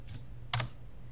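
A brief burst of close keyboard typing, a few quick key presses in one cluster while entering notation in Noteflight software, against a quiet background.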